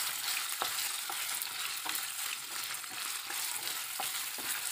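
Paneer cubes roast over a medium flame in a pan, a dense, even sizzle that runs throughout, punctuated by regular soft scraping strokes as they are stirred, with no speech.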